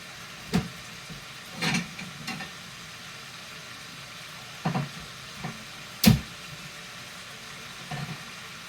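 Meat searing in a hot pan, a soft steady sizzle with scattered scraping and stirring knocks as the pieces are turned.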